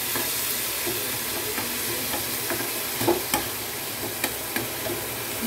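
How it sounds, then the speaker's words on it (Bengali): Masala stir-fried in a pan with leftover mutton stock for potol dolma, a steady loud sizzle with scraping stirring strokes and occasional spatula taps throughout. "দিয়ে মশলাটা একটু ভালো করে কষে নিচ্ছি"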